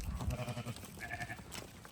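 Sheep bleat repeatedly on a Spanish goat farm during sorting into breeding groups, a cluster of close, wavering calls with more bleats layered in from nearby animals.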